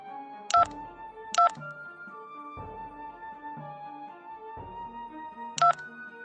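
Phone keypad dialing 911 in the Android surgery game Live Virtual Surgery: three short, separate beeps spaced across a few seconds over soft, steady game background music.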